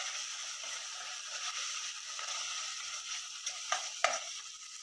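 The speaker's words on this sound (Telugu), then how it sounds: "ఇప్పుడు దీంట్లో అల్లం వెల్లుల్లి పేస్ట్ కూడా వేసేస్తున్నాను. ఇది పచ్చి వాసన పోయేదాకా వేయించుకుందాం." Ginger garlic paste frying with onions in a pan gives a soft, steady sizzle with a few sharp crackles and spatula scrapes near the end.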